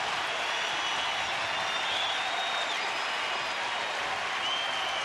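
A baseball stadium crowd in Texas cheers during a two-strike count late in the game, a steady broad roar with scattered applause that holds at an even level throughout, with no talk heard over it.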